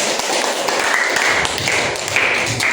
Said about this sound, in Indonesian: Dan tepuk tangan untuk kelompok 3